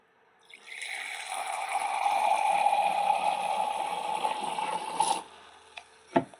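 Water, measured at 60 ml in a syringe, is poured into a glass in one steady pour of about five seconds, followed by a couple of small knocks.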